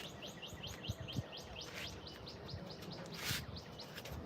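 Small birds chirp in quick repeated bursts, faint and somewhat distant, with no voices over them.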